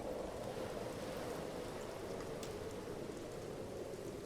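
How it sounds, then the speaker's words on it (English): Steady rain falls in the game All Will Fall, a dense, even hiss of drops on surfaces at constant moderate loudness with no voices. "Good rain here"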